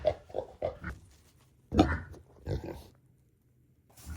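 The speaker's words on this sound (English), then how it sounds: "Let's go and check in on the two mini pigs." Two mini pigs on a snowy farm grunting and oinking in short, close bursts separated by quiet gaps, with a person's voice mixed in.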